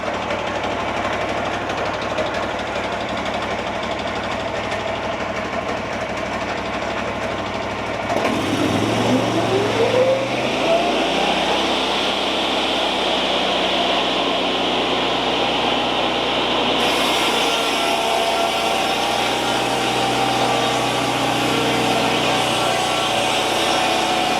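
A sawmill blade cuts a deep bevel through spruce siding, the motor's steady whine dropping and shifting pitch as the blade bites into the wood, then holding a loud, continuous drone.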